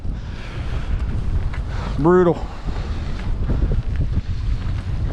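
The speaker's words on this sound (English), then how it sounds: "Oh, it's getting windy out here" Strong wind gusting over a lake during kayak fishing, a steady roaring buffet of wind noise across the whole clip, with a brief spoken word partway through.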